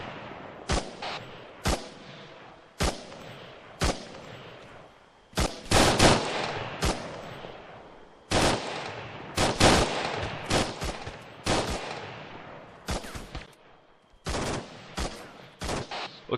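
Rifle shots crack out in a border gunfight near a crane, sharp loud reports arriving singly and in quick clusters with short gaps between them.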